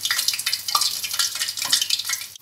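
Battered food frying in hot oil for a Lontong Balap dish, a close, steady crackling sizzle with bursts of popping and no talk.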